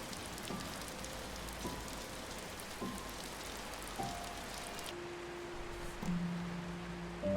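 Steady rain in the visual novel game Until Then patters on a surface, a soft continuous hiss of drops with a few faint tones drifting in and out.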